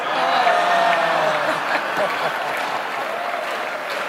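An audience at an awards ceremony claps together in a steady wash of applause that slowly thins toward the end, with faint voices and crowd murmur underneath.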